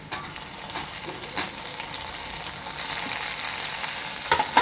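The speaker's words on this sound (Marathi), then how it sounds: "आणि मी आता टॅमॅटो टाकत आहे." Chopped tomatoes go into a pan of frying onions for a spicy Maharashtrian brinjal curry, bringing a steady bright sizzle with a few stirring clatters, close and loud, with no talking.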